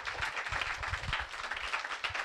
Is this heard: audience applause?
yes